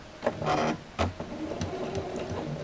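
Sewing machine stitching a seam at a stitch length of 2.5: short bursts of mechanical whirring and clatter, with a brief pause between runs, close by and moderately loud.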